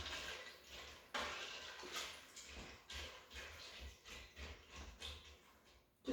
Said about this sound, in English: Add all that, give it a stir.